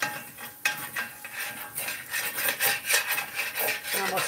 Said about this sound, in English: I'm going to scrape all those cracklings up and get them loose from the bottom of the pan